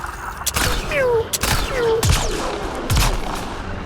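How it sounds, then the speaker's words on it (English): Several sharp gunshot bursts from a sci-fi shooter game crack out in uneven groups over about four seconds, loud and close, with a few gliding electronic tones between shots and no speech. "We're shooting at the wrong thing."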